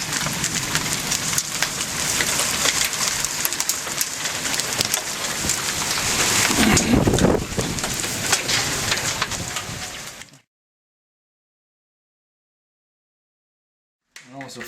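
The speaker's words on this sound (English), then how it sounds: "The hail coming in and bouncing." Hail pelting a tin roof during a severe lightning storm near Toronto, a dense, loud, continuous clatter that swells for about ten seconds and then cuts to silence, resuming faintly at the very end.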